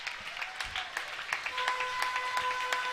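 Home crowd applauding as the Trojans (Wayzata) close out a 75-57 high school basketball win over Saint Michael Albertville, with steady clapping, scattered cheers and a couple of sustained whistle-like tones throughout.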